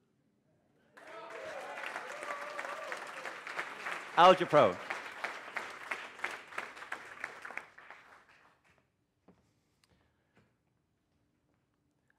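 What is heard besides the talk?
audience applause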